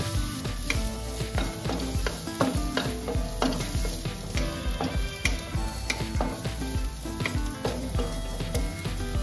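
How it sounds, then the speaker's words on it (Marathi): One finely chopped onion sizzles in a hot pan as it is sautéed for street-style egg bhurji, with a steady close sizzle and repeated scraping, clinking stirs of a spatula against the metal; no one speaks. "तर ह्या कांद्याला आपल्याला गुलाबी रंग येईपर्यंत थोडासा परतून घ्यायचा आहे।"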